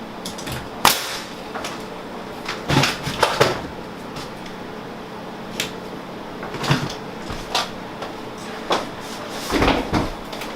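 A closet door being lifted and hung onto its overhead track, giving several scattered knocks and clunks of wood against metal at close range, with quiet stretches between.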